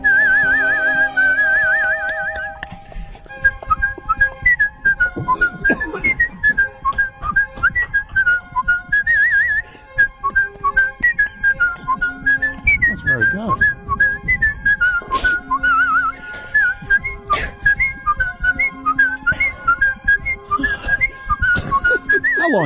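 A man whistles a melody clear and bright like an instrument, with vibrato and runs of notes over a faint backing, loud and close for over twenty seconds without talk.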